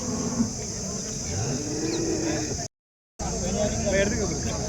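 Cows at a large cattle market in Chintamani, Karnataka, low moos rising over a busy crowd murmur, with a short gap of silence midway.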